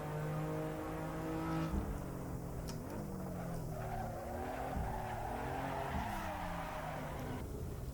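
In Assetto Corsa EVO, a sim race car drifts with a steady engine drone and sustained tire squeal that shifts in pitch as the slide changes. It stays loud and continuous throughout, with no voices.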